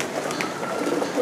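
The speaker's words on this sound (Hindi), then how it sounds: "30 साल का कबूतर हो गया" A thirty-year-old pigeon, now weak in the wings, gives low steady cooing close by, a soft continuous murmur with no talk over it.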